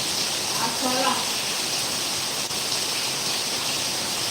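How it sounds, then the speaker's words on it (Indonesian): Heavy rain pours steadily outside a home kitchen, a dense, even hiss of falling water that holds throughout, with a faint brief voice-like murmur early on. "Di sini hujan gede banget tuh."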